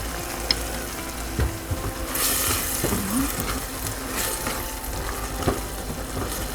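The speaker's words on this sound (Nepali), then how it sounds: "अब यसलाई छोपेर टमाटरलाई गल्ने गरी पकाउँ।" Tomatoes for a radish pickle cook in a covered pan with a soft, continuous sizzle, broken by a few light clinks and scrapes of a utensil.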